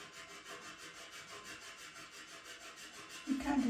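Pastel stick rubbing across paper while filling in a corner of a cat drawing, a faint steady scratchy stroking that grows a little louder at the end, close and alone.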